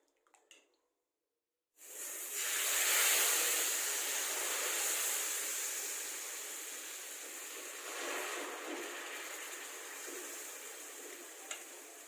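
Rava millet dosa batter hits a hot pan with a sudden loud sizzle that swells and then holds as a steady, close hiss, fading slightly over time.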